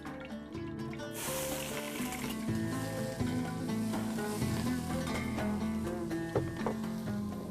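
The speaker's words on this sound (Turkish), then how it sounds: "Şimdi öncelikle sıvı yağını koyuyorum. Soğanı ilave ediyorum." Onion fries in sunflower oil in a pan, a soft continuous sizzle with occasional stirring, heard close but faint beneath steady background music.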